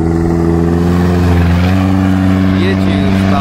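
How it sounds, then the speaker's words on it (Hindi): Rally jeep engine in the Cholistan desert rally droning loudly and steadily, pitch rising slightly as it nears, with a voice talking over it throughout. "एक और गाड़ी आते हुए ये चेक करें जी"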